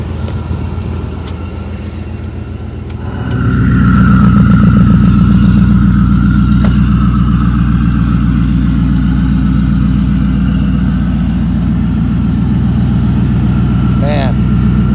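A twin-turbo Shelby F150 pickup idles, then the rumble jumps louder and deeper as the exhaust cutout opens, settling into a steady, throaty loping drone.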